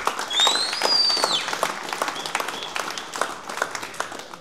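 Audience at a fight-promotion press conference breaks into a burst of scattered applause, loudest at first and then thinning into lighter, uneven claps, with a brief high whistle near the start.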